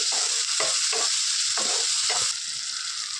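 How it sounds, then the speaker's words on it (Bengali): Tomatoes frying with spices in a pan while being stirred: a steady, close sizzle with repeated scraping stir strokes, no talking. "এই যে এর মধ্যে টমেটো দিয়ে নিলাম দিয়ে এখন নাড়াচাড়া করে নেবো আর এই যে ভালো করে এখন ভাজা ভাজা করে নেবো"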